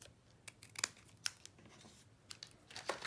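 Scissors snip a die-cut paper piece in half at a card-making table. Several quiet, close, crisp cuts and small paper rustles come in an irregular sequence.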